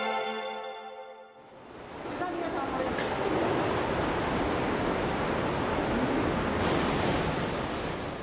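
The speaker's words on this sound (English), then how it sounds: "the visitors are welcomed by an 8-meter-high waterfall" An 8-metre-high waterfall inside an underground cave roars as a steady, loud wash of broadband rushing water, rising after a brief musical opening and holding constant to the end.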